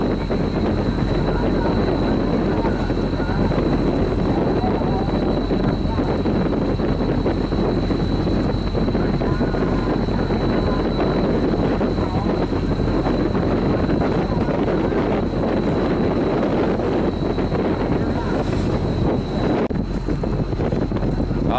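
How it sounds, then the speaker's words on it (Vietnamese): Heavy waves pound against a pair fishing trawler at sea. The roar is loud and continuous, with wind buffeting and engine rumble mixed in for the whole stretch. "Đó, dữ chưa, dập sóng rồi kìa."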